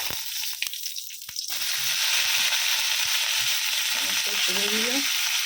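Lau shaak (bottle gourd greens) fry in a pan, starting with a few clatters and then settling into a loud, steady sizzle, with a couple of brief squeaky scrapes near the end.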